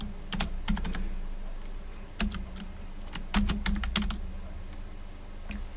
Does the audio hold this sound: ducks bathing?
no